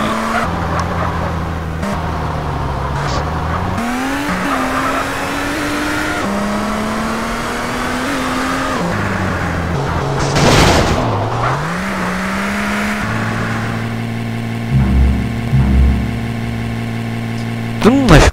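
A car engine in the SAMP multiplayer game revs and shifts through gears with rising and falling tones, a whooshing pass midway and squealing bursts near the end, while someone talks over it.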